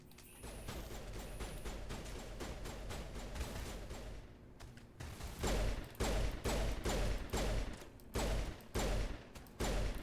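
Rapid bursts of gunfire from the video game Mass Effect 1 on Insanity difficulty, a steady stream of shots that breaks into loud, choppy volleys separated by short pauses, with no voices.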